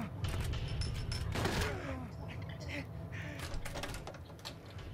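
Gunfire from Silent Hill 2: a few sharp shots crack in quick succession early on, followed by scattered thuds and game noise, with a voice speaking over part of it.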